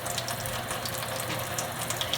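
Water runs steadily from a faucet into a sink, a faint, even hiss with small irregular splashes throughout and no talking.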